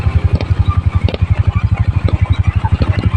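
A motorcycle engine runs close by with a fast, regular thumping pulse and some mechanical clatter, loud and steady, with faint voices in the background.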